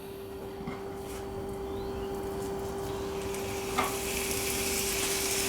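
Chicken cooks in olive oil in a pan with a steady low sizzle that grows brighter and louder toward the end, over a constant background hum.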